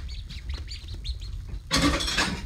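A pet bird kept in a crib indoors calls repeatedly, a series of short chirps and squawks close by, followed by a louder burst of rustling or flapping at the end.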